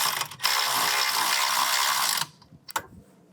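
A ratchet with an 18 mm socket clicks rapidly and continuously while snugging down a bolt on a BMW E46 front strut, close and loud for about two seconds, followed by a couple of sharp knocks.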